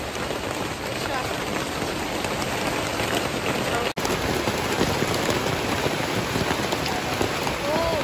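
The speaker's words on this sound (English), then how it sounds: "It's raining." Steady rain falls hard and close on surfaces, a dense continuous patter that holds for the whole stretch apart from one brief dropout midway.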